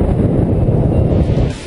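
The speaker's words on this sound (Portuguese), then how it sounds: "O silêncio, ou melhor, o barulho do vento," Strong wind rushes and roars over the microphone during a paragliding flight, a loud, steady low rumble with no voices.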